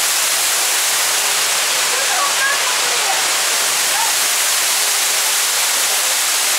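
Steady rushing water pours continuously from a hotel pool's waterfalls at the Mirage in Las Vegas, a broad hissing wash filling the whole clip, with faint splashes and distant voices underneath.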